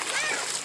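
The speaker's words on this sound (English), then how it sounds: "quit splashing" A child splashes water in a swimming pool, a short burst of close splatter with a voice mixed in.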